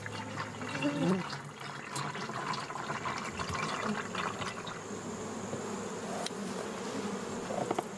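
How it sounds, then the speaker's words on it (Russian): Honeybees swarm around a bucket being filled with syrup, their dense buzzing hum continuous and close throughout, layered over a faint liquid pouring sound. "мы обдаем ведро дымом, чтобы отогнать пчел, пока мы заполняем ведро сиропом"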